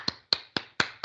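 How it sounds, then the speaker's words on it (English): Four sharp, distinct hand claps spaced about a quarter second apart, close and fairly quiet with no talk around them. "Clap."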